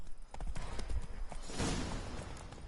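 Horse hooves clip-clop at a steady walk in the Witcher 3 video game, a soft, fairly even patter of hoofbeats over a dense, noisy game soundscape.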